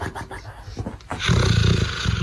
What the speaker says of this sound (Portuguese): esse cachorro ronca que nem os desenhos animados.